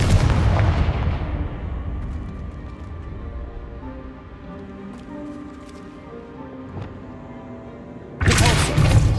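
In the Hogwarts Legacy video game, a Confringo spell goes off with a heavy booming blast that fades into a low rumbling tail, and a second loud burst follows near the end.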